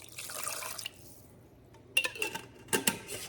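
Homemade beef broth poured into a roasting pan with pot roast, a steady liquid splash at first, then a pause and two bursts of splashing and clinking against the pan.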